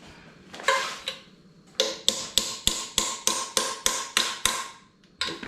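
A hammer taps metal in a steady series of sharp, ringing strikes, about a dozen in quick succession, close and loud with no talking.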